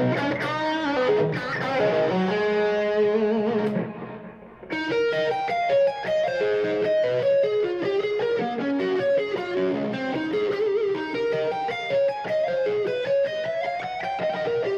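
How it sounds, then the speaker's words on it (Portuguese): Electric guitar played through a Blackstar ID:Core amp on a super crunch setting with reverb and an exaggerated tape echo delay, sustained distorted notes and chords repeating in echoes, loud and continuous with a short dip partway through. "o reverb, o super crunch e um eco um pouco exagerado só para a gente poder demonstrar esse delay"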